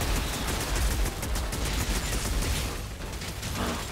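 Shotgun gunfire in the Outriders Worldslayer video game, a dense, continuous barrage of loud rapid shots with battle noise, close and sustained throughout.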